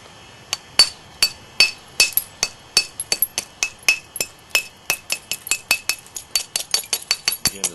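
A stone biface is worked by percussion flint knapping with a small hammer 'bopper', driving flakes off one face. About thirty sharp, close, ringing strikes come in a steady series that quickens toward the end.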